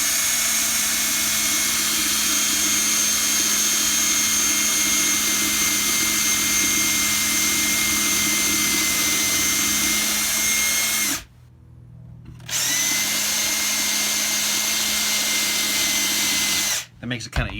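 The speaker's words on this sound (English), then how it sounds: "then I'll take the drill" A power drill whines loudly and steadily while boring into a cigar box for a cigar box guitar build, a close continuous motor drone that briefly stops, restarts and cuts out again near the end.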